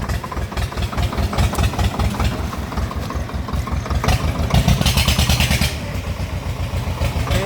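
Swaraj tractor engine running nearby, a steady, heavy chugging beat with clattering overtones that grows a little louder midway before easing back, no voices.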